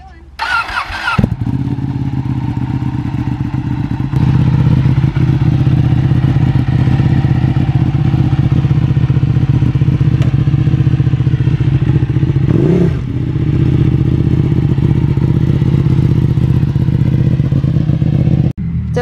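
A carbon Ducati Panigale motorcycle with blacked-out grips and levers fires up after a short crank, then settles into a loud, steady deep idle close by, with a brief blip of revs partway through.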